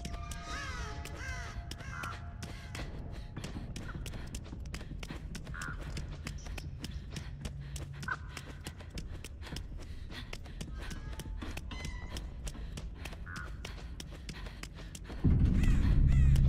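Crows cawing repeatedly in the horror video game Dead by Daylight, the harsh calls over constant game ambience with dense rapid ticking, ending in a sudden loud rumble.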